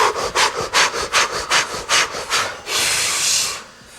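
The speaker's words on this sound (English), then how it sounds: "Remember, it's like panting." Rapid fire-breath panting in a breathing exercise, about a dozen quick, forceful, rhythmic huffs through the mouth close to the mic, followed by one long exhale that fades.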